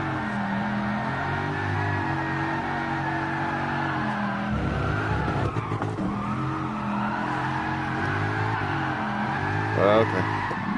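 Mercedes SLS race car in GT Sport sliding off the track onto dirt, steady engine drone with tyres scrabbling through the whole stretch and a brief squeal near the end, with talk over it.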